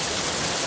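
Heavy rain pours down in a dense, steady hiss that stays loud and even throughout, with nothing else heard over it.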